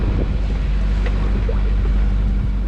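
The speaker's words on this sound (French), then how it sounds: "on démarre le moteur, on va sortir du port" Sailboat engine running while leaving port, a steady low drone under heavy wind noise and water wash, continuous and loud.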